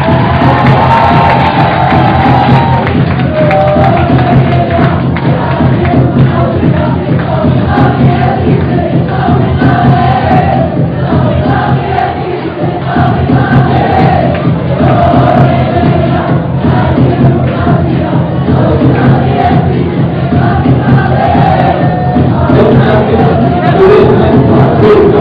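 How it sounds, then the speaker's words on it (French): Loud, sustained applause and crowd cheering from an audience welcoming a team at a 2013 final event, a dense continuous roar lasting throughout with voices mixed in. "s'il vous plaît, on les applaudit très fort."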